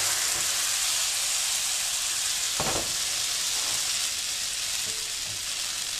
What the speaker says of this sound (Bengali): 1 মিনিটের মতো হালকা তেলে আমি পিঠাটা ভেজে নিলাম